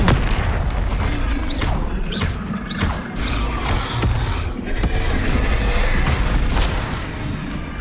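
Bombarda blasting spell cast in Hogwarts Legacy: loud booming impacts and crashing debris follow one another in a dense, continuous barrage of magical combat.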